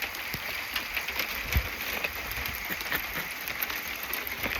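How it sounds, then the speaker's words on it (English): Light hail falling outdoors, a steady dense patter of small pellets with scattered sharper ticks, close and continuous throughout at a soft level with no talking. "Oh, it's light. It's light hail."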